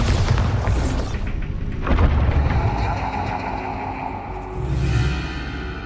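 A Bombarda blasting spell goes off in Hogwarts Legacy with a deep booming blast and a rumbling tail, followed by a second heavy thump near the end, loud and close.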